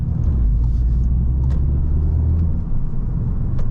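A VW Golf Mk7 GTI engine drones steadily from inside the car as it drives, a loud, deep rumble with faint clicks above it and no talking.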